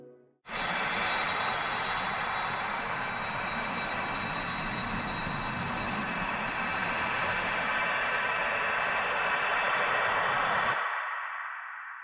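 A subtle magical wind shimmer for the Honkai Star Rail main menu, a steady airy whoosh with faint glittering high tones, holding at an even level for about ten seconds before cutting off.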